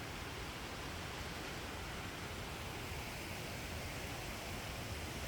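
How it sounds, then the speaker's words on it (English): A waterfall beside a river gives off a continuous, even rushing roar of falling water, steady and enveloping with no pauses and no voices. "Oh, I hear falls."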